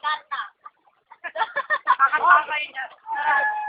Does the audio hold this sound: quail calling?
yes